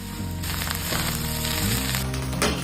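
Chicken fried rice tossed with vinegar and soy sauce sizzles in a hot pan, a steady close crackle with intermittent scraping and stirring strokes, no talking.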